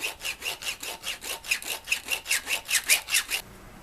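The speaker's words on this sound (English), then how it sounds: "I'm going to go ahead and just use the hacksaw blade" Steady back-and-forth hacksaw strokes rasp through a metal shock mount on a motorcycle frame, about a dozen rhythmic passes up close, then the cutting stops.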